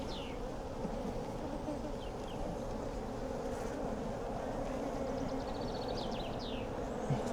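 Drone honeybees fly around an opened hive, a soft steady buzzing with individual bees droning past nearer now and then, faint outdoor background throughout.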